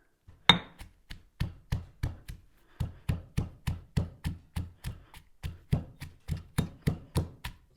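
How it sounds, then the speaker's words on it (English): Six garlic cloves and whole black peppercorns pounded in an unpolished granite mortar and pestle, about two dozen steady, evenly spaced dull thuds close up, the first strike loudest, with one short pause midway. "Now in the mortar and pestle, I'm going to pound 6 garlic cloves, a half tablespoon of whole black peppercorns."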